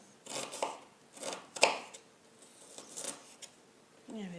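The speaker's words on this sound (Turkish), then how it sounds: "soğanlarımı küp küp bir şekilde doğruyorum" Onions are diced into cubes with a knife on a board, giving a handful of irregular chopping thuds and scrapes at close range, fairly quiet, with a brief murmur near the end.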